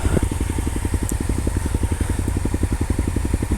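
A Honda Africa Twin 1100cc motorcycle engine idles close by on a mountain road in Manang, a steady rapid rumbling pulse with even firing beats throughout.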